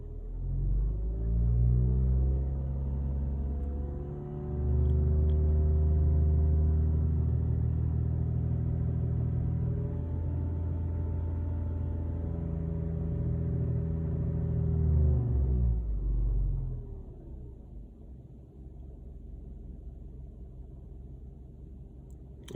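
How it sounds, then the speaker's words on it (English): Vauxhall Corsa D engine, fitted with a P0171 lean fault, revved hard and held at high revs for about fifteen seconds, then dropping back to a lower idle rumble once off the throttle, recorded close with no talking. "We'll just rev the car."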